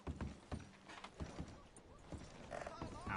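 Horse hooves clip-clopping in Red Dead Redemption 2, a brisk irregular run of close hoof thuds with faint creaking tack and a whinny-like sound, fairly quiet.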